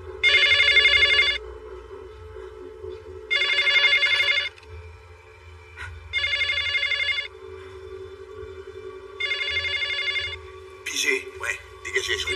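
A telephone bell rings in four loud, even bursts with pauses between them, in an escape room, with a low hum underneath and brief rustling near the end.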